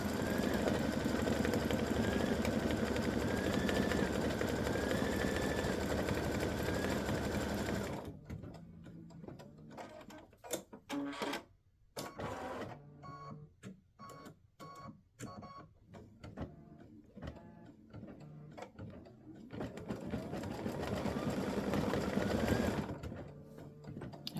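A home embroidery machine stitches a football turkey applique block, its needle motor whirring in a steady, loud, fast buzz, then stopping into a stretch of clicks and faint movement before the stitching hum resumes.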